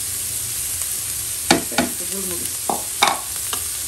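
A spatula scrapes and stirs pizza topping with black pepper in a pan, a few sharp clatters over a soft background sizzle, with a brief spoken phrase in between.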